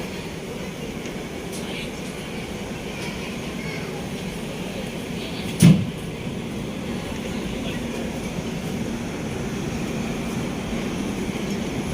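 The Amritsar–New Delhi Intercity Express running along, giving a steady low rumble of rolling coaches heard from on board, with a brief sharp clank partway through and no clear talking.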